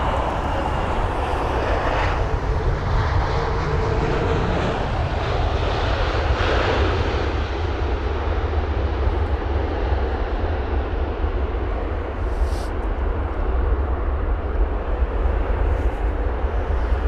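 An Air Algérie Airbus A330-200 airliner at London Heathrow gives a sustained, loud jet engine roar, a broad steady rumble holding throughout without voices.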